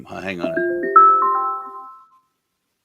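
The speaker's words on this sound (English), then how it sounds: "that's my phone. I'm getting a call." A mobile phone rings with an incoming call during a live lacrosse talk show, sounding a short, bright melodic tone sequence that rises and fades within about two seconds, with a voice briefly speaking over the start.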